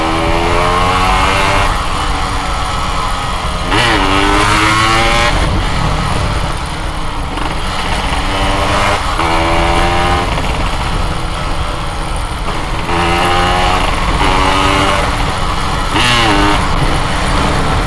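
A Yamaha RX-King motorcycle engine revs loudly and continuously, rising and falling in pitch with repeated throttle bursts, close by.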